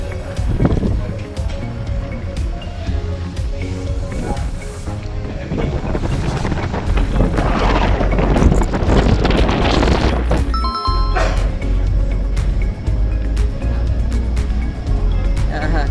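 Strong wind buffets the microphone on an open ferry deck bound for Koh Chang, a steady low roar with gusts swelling in the middle, while a voice talks intermittently over it.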